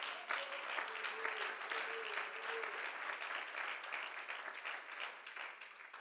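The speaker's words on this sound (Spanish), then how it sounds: "Dele ese aplauso al Señor con todo su corazón." Church congregation applauding during a sermon, a steady wash of clapping from many hands with a voice briefly rising over it, gradually tapering off.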